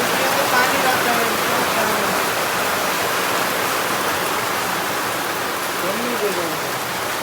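Rain falls outdoors in Nepal as a dense, even hiss that holds steady throughout, with faint voices barely showing beneath it.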